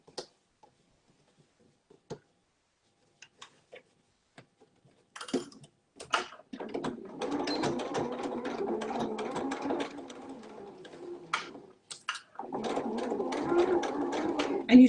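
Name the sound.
sewing machine stitching a mini wallet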